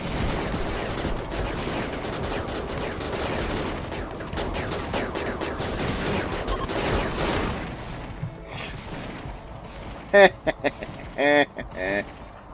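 Sniper rifles and other guns fire in a Rimworld colony fight, a dense stretch of shots and rattling fire that thins out midway, followed by a few sharp isolated sounds, with a voice talking across much of it.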